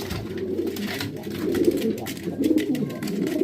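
Homing pigeons coo in a loft during pairing, soft throaty rolling calls repeating close by over a steady low background.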